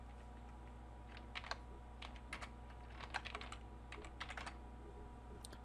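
Someone types a login ID and password on a computer keyboard, producing quick irregular bursts of light key clicks. The clicks sound nearby but soft over a low steady electrical hum.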